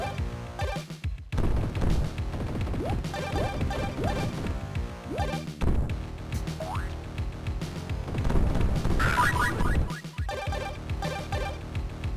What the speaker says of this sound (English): Finally get to use the RF missiles now.